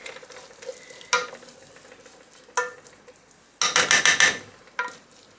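Vegetables softening in a pan over low heat for mac and cheese, a gentle sizzle broken by several sharp utensil scrapes and knocks against the pan, with one louder burst of stirring, close by.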